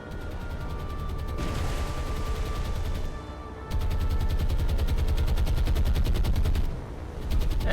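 Anti-aircraft guns on a warship firing at attacking aircraft in the naval game War on the Sea, loud rapid bursts of continuous automatic fire that pause briefly and resume, with heavy rumbling booms underneath.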